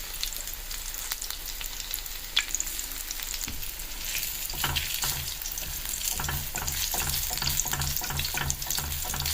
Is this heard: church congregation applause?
no